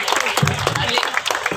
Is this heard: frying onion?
no